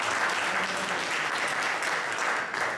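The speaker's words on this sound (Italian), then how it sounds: "Davvero un applauso calorosissimo." Warm, sustained applause rises from the audience at an official award ceremony for a memorial event, a thick continuous patter of many hands clapping close and loud throughout.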